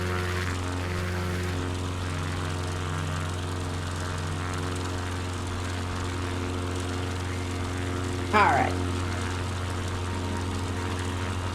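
A propeller airplane drones steadily in a flight game while flying over Finland, a constant low engine hum with harmonic bands throughout, and a brief spoken word near the end.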